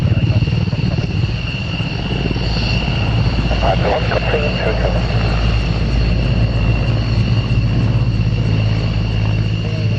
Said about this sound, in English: That is our aircraft coming up around